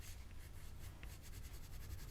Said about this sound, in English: I'm burnishing more with the yellow on this one than I will with white